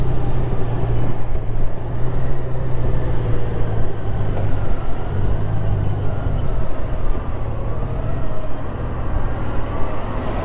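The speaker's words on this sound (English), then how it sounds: "This is by far the smoothest bike I've ever ridden in my life." A Honda Goldwing 1800 DCT motorcycle on the move, with a steady low engine hum and road drone under heavy wind rush, loud and continuous, with no distinct gear changes.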